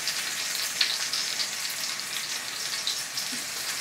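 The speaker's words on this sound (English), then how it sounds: "We're gonna want to sear this." Venison meatloaf basted in barbecue sauce sears in a hot pan with a close, steady, crackling sizzle and occasional sharp pops, uninterrupted by voices.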